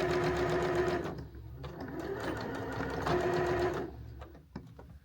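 A sewing machine stitches close along the edge of a tiny tote bag made from 10-inch fabric squares, running in fast, steady bursts with a brief slowdown partway and stopping near the end.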